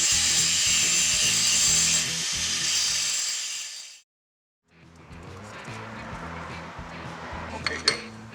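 A saw cuts through wood in a garage workshop with a fast, even stroke rhythm, stops briefly and then starts again, with a voice heard faintly under the noise.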